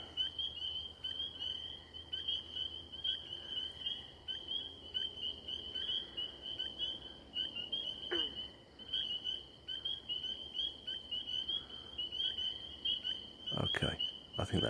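A frog chorus on a late-May night in Maine, with steady overlapping trills and croaks going on continuously, plus faint insect chirps and a few sharp nearby knocks toward the end.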